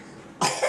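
A young child coughs twice in quick succession, close and fairly loud after a quiet pause, the second cough shorter and softer than the first.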